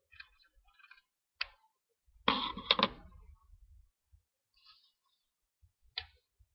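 Scissors cutting open a Pokémon card pack, a few quiet snips and ticks, then a brief louder crinkling rip of foil wrapper, followed by sparse faint clicks in near silence.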